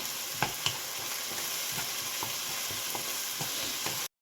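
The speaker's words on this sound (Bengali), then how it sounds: "এবং অ্যাড করার পর একটু কষতে দেবো।" Curry ingredients in a pan are stirred and fried over a steady sizzling hiss, with a spoon scraping and clacking against the pan every second or so, close and continuous, with no voices.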